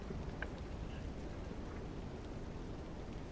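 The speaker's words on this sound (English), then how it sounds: "It's raining." Rain in a flight simulator game, heard as a steady dense hiss of falling rain with a low rumbling wash underneath, continuous and even throughout, with no voices.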